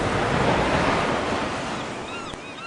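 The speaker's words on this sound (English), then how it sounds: "This massive water wall was created as an experimental atomic activity underwater" A massive wall of water thrown up by an underwater atomic test roars as a loud, continuous broadband rush like heavy surf, steady throughout and fading slightly toward the end.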